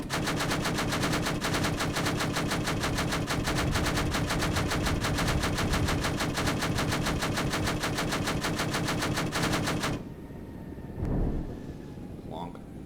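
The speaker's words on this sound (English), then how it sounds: "Still taking ground fire from somewhere." Sustained rapid machine-gun fire from ground positions in a combat flight game, loud and continuous for about ten seconds before cutting off abruptly, followed by faint fading rumble.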